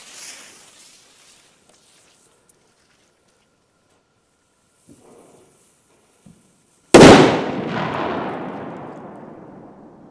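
A TP2 firecracker goes off with a single sharp, loud bang that rolls into a decaying rumble and crackle, preceded by a few faint small knocks in near silence.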